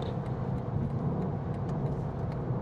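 A BMW M2 Competition engine pulling hard under acceleration, a steady loud mid-low drone with road rumble throughout, heard from inside the car without gaps.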